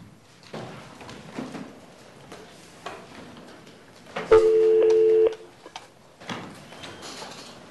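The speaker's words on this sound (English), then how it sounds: "Let me see if I can get Mr. flood back on the phone" A telephone is dialed during a courtroom pre-trial hearing: a steady electronic tone sounds for about a second amid faint rustling and small clicks, with quiet room noise before and after.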